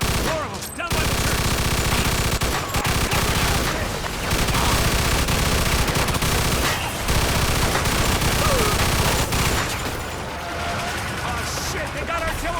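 Sustained machine gun fire in the Mafia 2 Definitive Edition shootout near a church, dense rapid bursts of gunfire with brief pauses, loud and close throughout.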